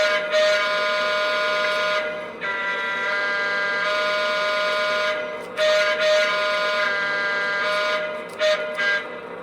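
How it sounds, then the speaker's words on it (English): A Lionel 2017 S-2 model diesel locomotive from a prewar-inspired freight set sounds its horn in loud, sustained electronic blasts, with two brief breaks in the steady tone and no talking. "So first, let's check out the horn."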